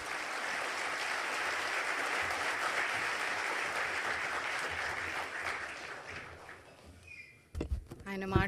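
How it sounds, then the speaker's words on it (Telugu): An audience breaks into sustained applause after a minister's speech at Davos, a dense, steady clatter of many hands that fades toward the end before a brief voice and a few thuds come in. "చప్పట్లు నడుస్తూనే ఉన్నాయి జరిగినంతసేపు"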